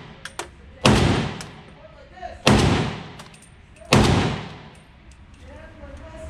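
Three heavy gunshots fired at a Las Vegas shooting range, spaced about a second and a half apart, each a loud booming blast with a rolling decay, while an instructor's voice talks between them.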